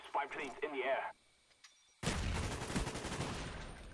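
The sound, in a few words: gunshots in video game Black Ops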